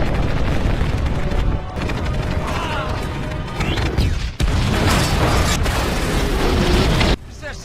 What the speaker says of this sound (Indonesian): dia lempar sebuah granat yang menyebabkan ledakan dahsyat hingga menghancurkan pesawat alien itu